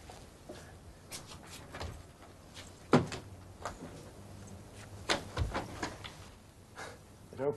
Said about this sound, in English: Try the door again.